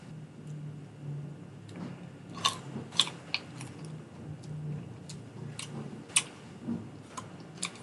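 Someone eats young, sour tamarind pods, with soft crunchy bites and chewing clicks close up, irregular and fairly quiet over a low background hum.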